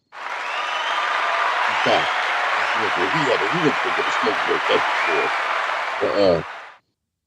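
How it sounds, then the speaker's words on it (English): Applause in a podcast studio, heard as a broad, loud wash of clapping that runs for several seconds and then cuts off; a voice talks over it throughout. "Can we get a round of applause for that?"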